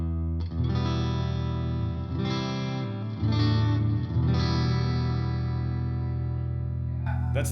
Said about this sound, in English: and just so you can hear the difference in the strumming